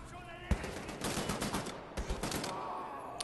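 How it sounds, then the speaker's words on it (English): Rapid gunfire from Wolfenstein: The New Order fills the scene, dense repeated shots and bursts with a loud impact near the start, heard continuously over game ambience. "I'm exploring. Stop shooting me."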